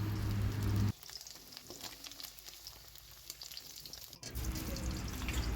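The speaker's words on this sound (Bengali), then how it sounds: "বাকি পনিরগুলো এখন কড়াইতে দিয়ে নেব। লাল লাল করে ভাজা হলে তুলে নেব।" Paneer cubes frying in a wok of hot oil for a vegetarian doi paneer dish, a steady close crackling sizzle that drops lower after the first second and swells again near the end.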